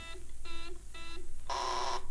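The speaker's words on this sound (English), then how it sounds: "stand by for the time signal" A radio time signal: three short beeps at an even pace, then a longer, brighter tone, over a hissy broadcast background from an old 78rpm record.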